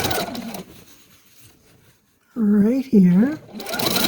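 A sewing machine runs in a short burst while stitching down about an inch of a quilt corner built from fabric scraps, with a person speaking briefly beside it in a quiet room.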